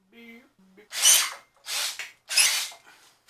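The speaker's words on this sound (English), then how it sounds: "Those ones could probably do with some more drilling." Short bursts of a power drill whirring in three rough pulses while drilling holes to bolt a blower and forge onto a homemade frame, preceded by a brief tonal beep or whine, fairly close.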